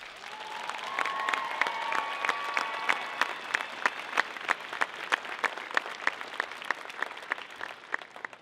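An audience at an Eastern Michigan University convocation claps steadily for parents and families, a dense round of applause with individual sharp claps standing out, fading slightly toward the end.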